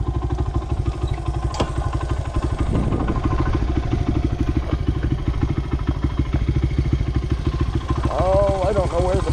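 A motorcycle engine runs close by, a steady low putter with some clatter and a few revs that stumble and bog down, while someone talks over it.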